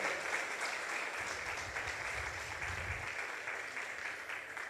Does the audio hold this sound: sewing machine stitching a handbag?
no